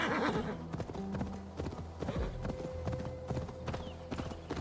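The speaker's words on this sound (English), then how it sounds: "That's a horse." Steady clip-clop of horse hooves trotting close by in the video game Assassin's Creed Valhalla, with a brief whinny early on and ambient game tones underneath.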